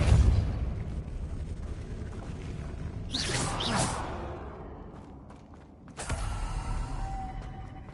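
A Depulso spell cast in Hogwarts Legacy, a rushing whoosh that swells and fades, followed by a sharp burst and low rumble, set against a steady ambient game drone.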